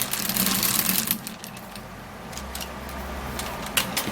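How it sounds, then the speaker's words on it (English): A manual mixer churns potato juice, giving a loud mechanical rattling whir for about a second. It then settles into quieter rattling with a few clicks near the end. "So the manual mixer is going to help it blend even more."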